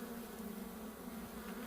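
Honey bees buzzing during a hive removal, a steady dense droning hum of many insects, close and continuous, with no voices.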